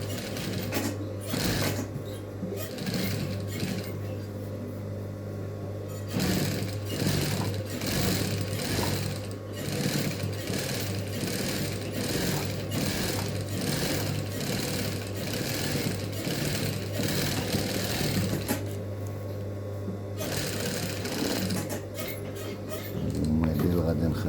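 A sewing machine stitches stretchy fabric in a fast, steady mechanical chatter running almost without a break, with someone talking over it throughout.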